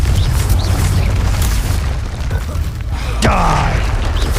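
The Confringo explosive spell in Hogwarts Legacy sends a loud, low rumbling boom through a dense game soundscape, and a sharp burst with a ringing tail lands around three seconds in.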